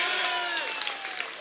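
Audience applause at a poetry recital, a brief, fairly loud burst of clapping from a crowd with voices mixed in, tapering slightly toward the end.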